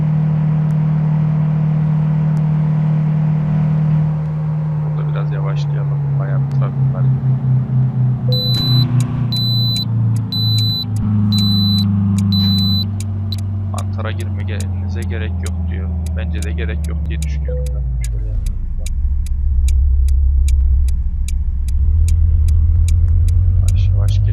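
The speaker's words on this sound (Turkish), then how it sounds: "Böyle dörde çekelim biraz bağırsın araba. Şahin olduğu belli olsun." A Tofaş Şahin car engine in Euro Truck Simulator 2 revs loudly and continuously, its deep drone climbing and falling through several rev sweeps over about twenty seconds, with a steady rumble underneath.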